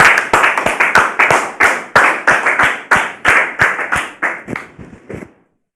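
An audience welcomes a guest with loud, rhythmic clapping in an even beat that repeats strongly, then thins out and stops abruptly.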